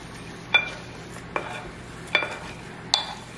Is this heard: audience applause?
no